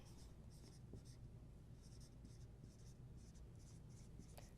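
Marker or chalk writing on a board in a math class, with repeated short scratchy strokes in bursts over a steady low room hum.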